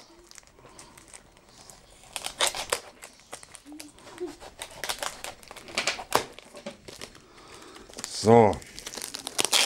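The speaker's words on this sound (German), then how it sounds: "Mal die Aufkleber mal weg." Stickers peeled and crinkled off store-bought packaging, with close rustling and tearing bursts scattered through ongoing talk and a short sharp rip near the end.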